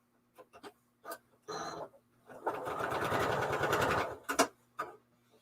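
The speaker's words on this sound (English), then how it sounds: "We're going to sew right on that line." A sewing machine stitches along a 3/4-inch line for appliqué, running in short stop-start bursts and then one sustained steady whirring run, close and fairly loud, with no talk.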